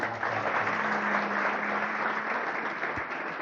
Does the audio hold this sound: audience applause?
yes